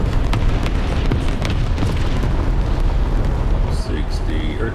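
Artillery strikes in a World War II tank battle game around a Soviet T-28 medium tank, a continuous heavy rumbling roar of blasts and engine noise, loud and close throughout.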